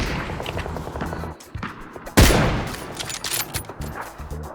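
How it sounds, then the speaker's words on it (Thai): Rapid PUBG gunfire crackles throughout in dense bursts, with one sharp, loud blast standing out midway, all in a busy battle soundscape with no clear talk. "โดนยิงด้านซ้ายอ่ะ ซ้ายหลังอ่ะ"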